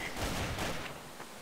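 Rapid gunfire in a video game, a dense burst of overlapping shots filling a second or so, loud and close, with no talking.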